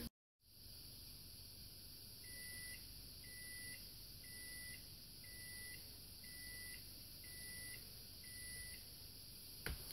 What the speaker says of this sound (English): I'm going to just set my timer for another, call it 4 or 5 minutes